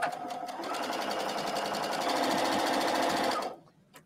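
A sewing machine stitches along a folded fabric edge for a draped wrap bathing-suit cover-up, running steadily and close for about three and a half seconds before stopping abruptly into near silence.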